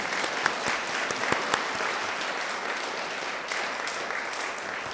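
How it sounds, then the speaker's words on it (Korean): A church congregation applauds the choir after its worship song, steady dense clapping from many hands that holds evenly throughout, with a few sharper claps standing out near the front. "모두 감사함으로 아까 치던 박수 이어서 화답하겠습니다"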